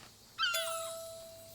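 Single short cat meow from the video game Alba: A Wildlife Adventure, a clear rising cry that trails off, heard alone over quiet background.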